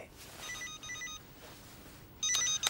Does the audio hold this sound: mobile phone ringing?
yes